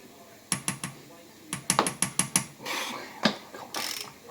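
A torque wrench ratchets in quick clicking bursts while tightening bolts on a forged Subaru EJ257 engine during a rebuild, sharp close clicks in rapid runs, then a softer whirring and a single knock.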